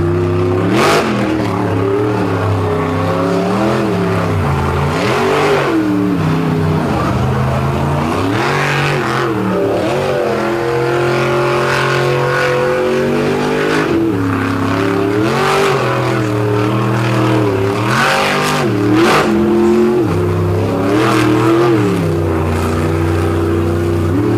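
Monster truck engine revving hard and continuously while digging into beach sand at a monster truck beach show, a loud, sustained roar with rising and falling pitch swings and no talk.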